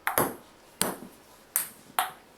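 A ball strikes a TapGlo interactive play field four times at uneven intervals, each hit a sharp, close, bright knock with a short ringing decay.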